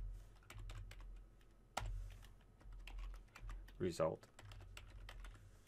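Rapid clicking keystrokes on a computer keyboard while VB.NET code for a retro brick-breaking game is entered, coming in irregular bursts close to the mic, with a brief spoken word over the typing.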